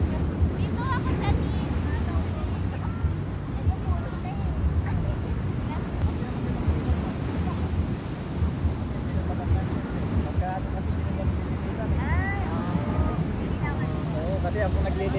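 Sea waves at a beach in Cabangan, Zambales, a steady rumbling wash of surf with heavy wind buffeting the microphone, continuous throughout with faint voices now and then.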